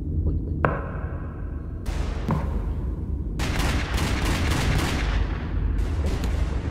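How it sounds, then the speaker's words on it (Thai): Gunfire in the Roblox Wild West game: a single sharp shot followed by bursts of rapid, closely spaced shots, loud and near, over a steady low background rumble. "ได้เสียงปืนครับสงสัยมีคนทะเลาะกัน"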